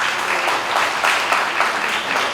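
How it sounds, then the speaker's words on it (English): Steady, dense applause from an audience at a firefighter award ceremony for the Holmatro Gold Pin Award, continuous and fairly loud throughout with no pauses. "One more round of applause, please"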